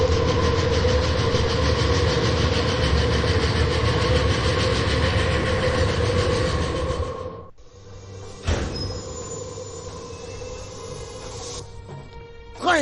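Steady rumbling rattle of a train rolling over rails, the Orient Express in a video game, loud and continuous for about seven seconds before dropping off into quieter clanks and scattered mechanical noises.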